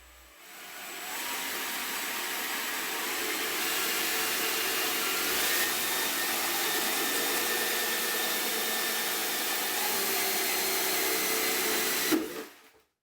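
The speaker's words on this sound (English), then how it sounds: "then I use a 3-blade adjustable hole saw and make a hole about 1 and 15/16 of an inch in diameter" A 3-blade adjustable hole saw cuts a hole about 1 15/16 inches across in a hydroponic container, giving a steady loud whirring drone for roughly eleven seconds before stopping abruptly.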